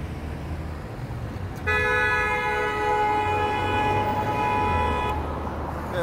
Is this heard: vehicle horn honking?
yes